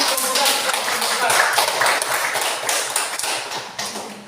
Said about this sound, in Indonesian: Mari kita kasih aplaus untuk kelompok 1 dan kelompok